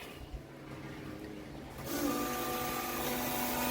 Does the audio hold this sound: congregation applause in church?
no